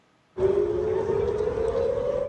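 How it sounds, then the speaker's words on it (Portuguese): An air raid siren sounds during an Iranian missile attack on Israel, starting abruptly and holding a steady, loud, sustained tone with a slight upward drift and a wash of broadband noise. "Sirenes, correria e interceptações de mísseis lançados pelo Irã."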